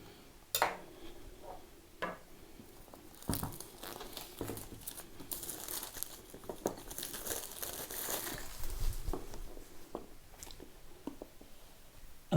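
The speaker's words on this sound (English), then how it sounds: "let's cut open the cellophane." Cellophane wrap being cut and peeled off a Kingdom Death: Monster box holding the White Gigalion, a steady stream of close crinkling and crackling with sharp tearing bursts, no talking.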